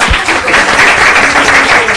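Audience at a maths-and-magic talk applauds for a volunteer named Concha, a dense, steady wash of many hands clapping, loud and close throughout, with faint voices mixed underneath.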